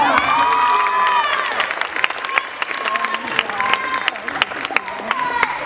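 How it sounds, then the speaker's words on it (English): Loud applause from a crowd with cheering and shouts, sustained over several seconds with sharp claps standing out. "Let's give him a round of applause."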